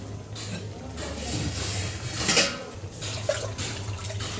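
Water splashes and pours into a cooking pot for fish curry with a continuous rushing sound, under a low background hum and faint voices.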